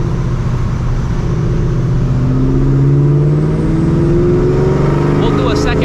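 Supercharged 2004 Mustang GT launching hard, its engine note climbing steadily in pitch as it accelerates, loud and close with a rising whine over the roar; a voice talks over it.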